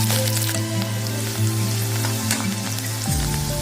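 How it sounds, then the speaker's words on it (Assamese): Sliced onion and green chili fry in hot oil with a steady, close hiss and crackle that carries on throughout, with music playing underneath. "সেই তেল বহাই দিছোঁ আৰু তেল গৰম হৈছে। এতিয়া ইয়াত দি দিম পিঁয়াজ আৰু জলকীয়া।"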